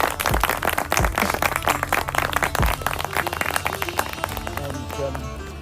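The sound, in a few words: conference audience applause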